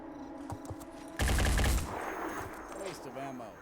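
A sudden loud burst of automatic gunfire rattles out in the tactical game Phoenix Point, a rapid volley lasting about half a second, then trailing into quieter game sounds with brief speech.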